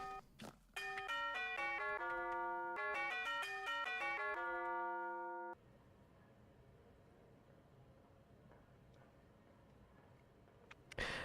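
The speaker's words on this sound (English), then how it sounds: "We got magic chime spooky sound." A spooky, magical chime effect sounds as a bright run of bell-like tones ringing in a rising and falling pattern for several seconds, then cutting off to near silence.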